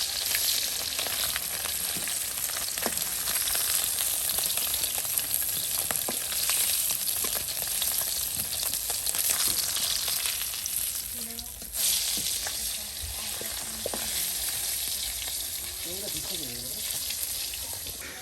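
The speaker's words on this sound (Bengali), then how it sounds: "ভাবি কেমন কাঁকড়া আসলে ভাজি করলো" Crabs frying in a pan in a Bangladeshi village kitchen, a loud, dense, continuous sizzle and crackle close up, with occasional stirring knocks and brief voices in the background near the end.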